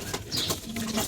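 Pigeons bathing in hot weather give a short burst of splashing and wing flapping mixed with soft cooing, close and moderately loud, with no speech.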